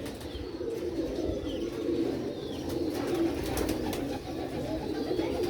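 Sialkoti rocket silver pigeons coo softly and repeatedly on an old rooftop, a low continuous murmur of calls close by with faint chirps above it.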